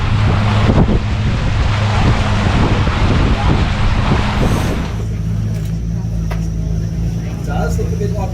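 Wind gusts roar across the microphone on a boat trip in North Queensland. The wind is loud and rushing at first, then eases partway through, leaving a lower steady rumble.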